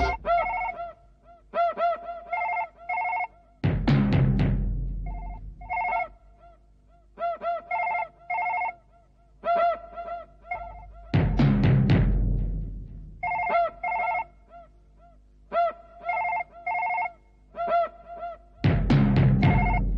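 An old-style telephone bell ringing indoors, in repeated bursts of bright electric trilling separated by short gaps, loud and clear, with a few heavier thuds and scrapes falling between the rings.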